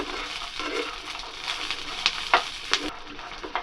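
Chopped green chillies sizzling and frying in hot oil for peanut chutney, a steady close crackle broken by several sharp spatters and stirring scrapes, with no voices.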